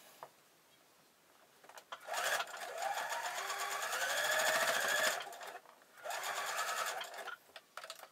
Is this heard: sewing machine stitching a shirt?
yes